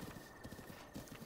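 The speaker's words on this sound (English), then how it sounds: "This horse does not turn well at all." Galloping horse hooves in the Zelda Breath of the Wild video game, a quick rhythmic clip-clop repeating over a short stretch, soft and low in level.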